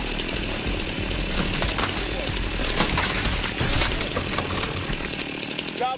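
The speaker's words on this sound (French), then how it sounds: "L'utilisation de la tronçonneuse s'impose." A chainsaw roars close and steady, cutting through a tree that blocks the door of a postal truck trailer on a Canadian highway; the engine whines continuously with rough bursts as the chain bites the wood.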